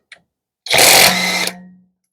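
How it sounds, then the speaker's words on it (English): A 738 ft-lb half-inch cordless impact wrench loosens a nut in one loud burst of hammering rattle lasting under a second, then the motor winds down to a fading whir after a small click. "We'll loosen this one next."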